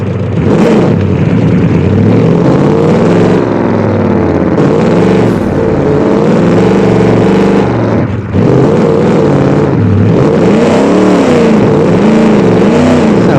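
Off-road car in BeamNG.Drive on a dirt trial course with uphill climbs: a loud, close engine revving and straining continuously, its pitch rising and falling through gear changes with a brief dip partway through.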